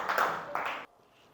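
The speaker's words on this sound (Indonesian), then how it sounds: "Tepuk tangan lagi untuk kita semua, seluruhnya." A school class claps during an ice-breaking activity in an Indonesian classroom. Two short, fairly close bursts of clapping are heard, and then the room goes suddenly quiet.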